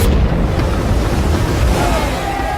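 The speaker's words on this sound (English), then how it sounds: "an explosion ripped out the forward funnel, killing 5 stokers and injuring several others" A deep, rumbling blast fills the whole stretch, a dramatised explosion aboard an early steamship ripping out its forward funnel, loud and roaring with a sustained low boom and no speech.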